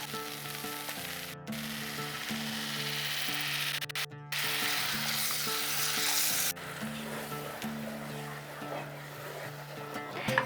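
Ground spice paste frying in oil with ginger paste and tomato, a strong continuous sizzle heard close with stirring scrapes and a low steady hum beneath, broken by a couple of brief cuts.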